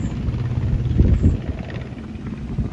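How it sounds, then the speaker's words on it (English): A helicopter thrums steadily overhead, its low rotor chop loud and continuous with a bit of wind noise. "I hear the helicopter, but I don't see it."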